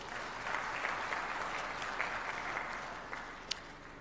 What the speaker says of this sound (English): So please give the panelists a round of applause.